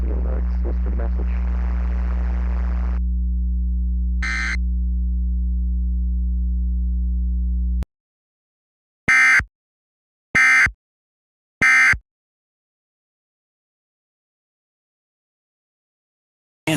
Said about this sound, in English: The following tones will conclude this test of the WINTERSAFE emergency alert system message.